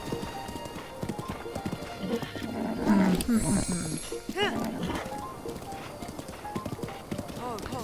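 Hooves of a royal white stallion clop in the video game Breath of the Wild, mixed with a horse's snorts and neighs and game sounds, while a person talks over it.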